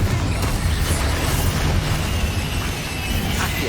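The Confringo spell in Hogwarts Legacy bursts into a loud, booming explosion amid dense combat noise, a heavy rumbling blast that swells and fades over a few seconds.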